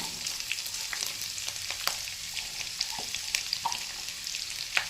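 Onions and chillies fry in oil toward golden brown, giving a soft continuous sizzle with scattered pops and light crackles, quiet and close.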